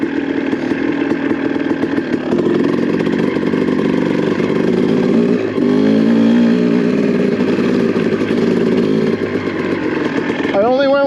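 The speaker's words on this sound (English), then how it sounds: "This little bike is a joy to ride." A Honda CR250 two-stroke dirt bike ridden through snow, its engine buzzing loud and close with a steady high rasp, shifting pitch as throttle changes, and a brief voice heard near the end.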